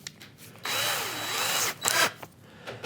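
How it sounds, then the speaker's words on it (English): A power drill fitted with a 3/8 inch bit whirs up and runs steadily for about a second, its pitch dipping and rising under load while boring a hole, then stops and gives a couple of short bursts; close and loud, no talking. "I'm going to load the drill bit,"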